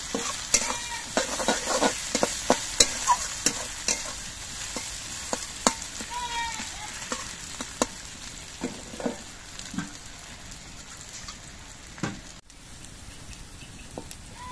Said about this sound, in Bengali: এবার আদা বাটাটাও একটুখানি নেড়ে রেখে ভেজে নিতে হবে।